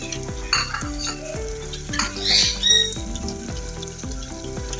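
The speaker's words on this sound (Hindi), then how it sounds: "इसके अंदर दाल डाल के फिर इसकी बुनाई करूँगी।" Dal and mutton stir-fried in a pot, a spoon scraping and clanking rhythmically against the metal over a steady close sizzle, with no talking.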